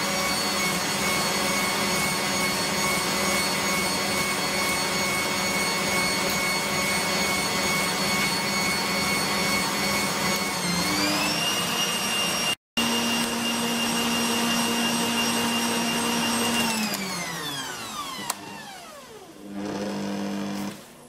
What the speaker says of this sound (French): Donc ça fait 5 bonnes minutes que c'est en train de fouetter